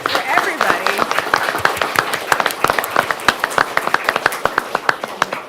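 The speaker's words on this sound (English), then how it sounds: "And we're going to clap for" At a city council meeting, an audience claps for an elementary school poster contest winner, with a mix of scattered sharp hand claps and close, distinct individual claps, and voices murmuring underneath.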